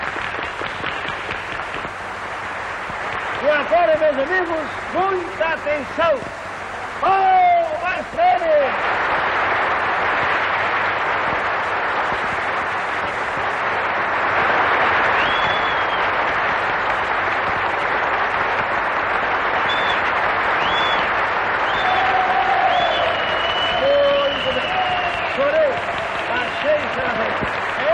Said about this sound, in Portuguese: palmas para ele que está no trono